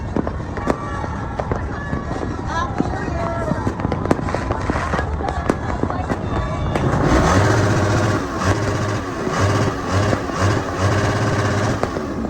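New Year fireworks crackle at first, then a motorcycle engine revs loudly through a noisy muffler, pulsing up and down amid background voices.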